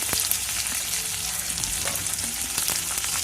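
Three dried red chilies frying in a pan for a curry leaf thuvayal, giving a loud, steady, close sizzle with faint crackles throughout and no talking.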